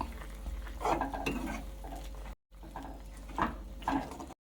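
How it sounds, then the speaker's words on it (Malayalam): A spoon scrapes and swirls through thick egg curry in a pan, with two eggs just added, in steady stirring strokes, a short pause, then more stirring. "ഇത് നമ്മൾ മിക്സ് ചെയ്യാം"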